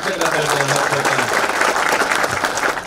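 Audience at a political gathering bursts into sustained applause, dense clapping filling the whole stretch, loud and close, with voices mixed in beneath.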